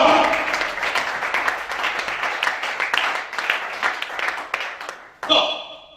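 A church congregation at a French-language worship service in Gabon applauds steadily, a dense wash of many hands clapping for several seconds before breaking off abruptly, followed by a brief burst of sound.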